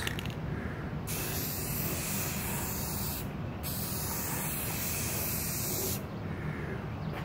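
A paint spray gun laying down a custom paint job gives a steady, loud broadband hiss in long continuous passes, with brief breaks where the trigger is released between strokes.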